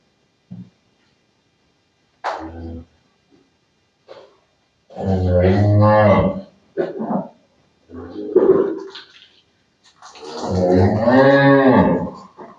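A large dairy cow lows several times nearby, deep drawn-out moos with short snorts and breaths between them.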